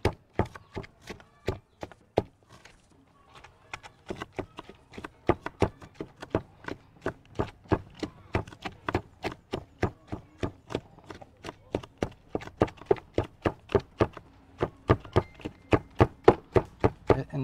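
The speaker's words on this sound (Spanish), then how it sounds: "aquí estoy picando una cebolla blanca" A knife chops a white onion finely on a board in a home kitchen, with rapid, regular sharp taps close by, mostly steady after a brief pause near the start.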